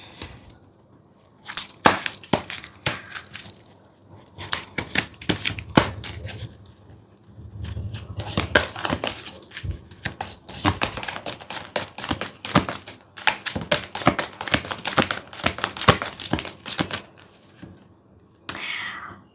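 Tarot cards being shuffled and drawn during a pick-a-card reading: dense runs of crisp riffling and flicking, with brief pauses between bursts, close and fairly loud, with no talk over it.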